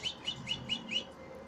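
Tessie, a pet bird, chirps five quick, evenly spaced high tweets, close and clear over faint room noise.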